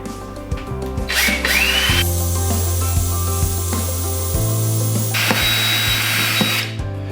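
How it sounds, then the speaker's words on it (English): A power drill whirs steadily with ratcheting, grinding texture, pitch shifting between bursts as the bit bites into plastic while drilling corner holes for a rabbit hay bin; close and fairly loud, no talking. "So I'm gonna first start by drilling the 4 corners."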